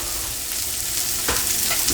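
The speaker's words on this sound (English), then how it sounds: "I can smell the garlic already, which means I probably need to stir." Garlic sizzling in a hot pan with salt and pepper, a steady bright frying hiss with a few scraping stirs of a utensil, close and alone without talk.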